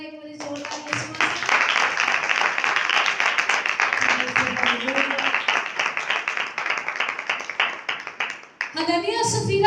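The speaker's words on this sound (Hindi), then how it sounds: "तालियां बजाओ जरा एक बार जोरदार" A church congregation breaks into loud, sustained applause during a Hindi-language sermon, dense clapping with some cheering and murmured voices mixed in, fading near the end as a voice returns.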